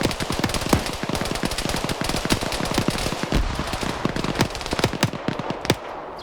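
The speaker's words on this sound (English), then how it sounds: "There's more flanking fire coming in." Dense, rapid gunfire from flanking units in a military video game, bursts of automatic shots and single cracks overlapping in a fast, uneven rhythm, loud and continuous with no voices.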